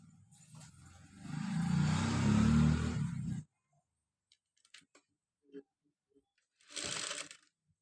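A sewing machine runs a burst of steady, whirring stitches on a designer long gown for about two seconds, then stops, followed by faint handling clicks and a brief second whir.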